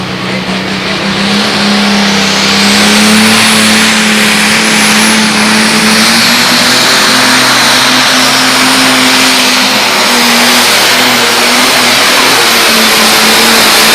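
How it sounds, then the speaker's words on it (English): A modified pulling tractor at a county fair tractor pull roars at full throttle, a loud, steady, close engine drone that holds high revs without a break. "Good run for BJ Wilkins with that tractor he calls Bull Ride"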